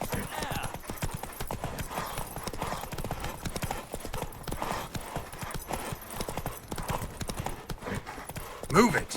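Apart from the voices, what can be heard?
galloping horse hooves in a race, from video game The Witcher 3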